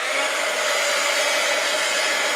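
A hair dryer blows steadily at close range to dry a painted postcard, a loud continuous whooshing roar with no pauses.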